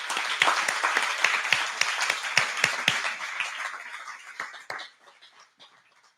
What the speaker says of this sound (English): So a round of applause for Ray.